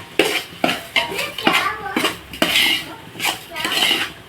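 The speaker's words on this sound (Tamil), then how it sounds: "இதை நல்லா நெய்லியே வறுக்கணும்." A spoon scrapes and knocks in rhythmic strokes against a pan while semolina roasts in ghee for kesari, loud and close, with very little frying sizzle heard.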